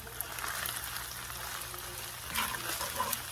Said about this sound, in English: See how it's frying in the pan with the butter, the oils, the garlic salt, the pepper.